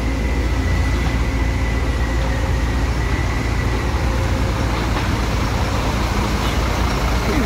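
A bus engine's steady, loud, smooth rumble runs without a break, close by and constant, with no talking over it.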